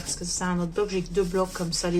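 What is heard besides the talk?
None of the usual background noises is heard.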